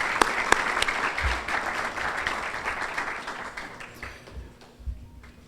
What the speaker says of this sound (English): Let's give Kelly another round of applause.